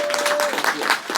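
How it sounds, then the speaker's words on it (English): Audience at a town hall meeting clapping in a brief, dense burst of applause that fills the room, with a voice partly mixed in. "he deserves a round of applause"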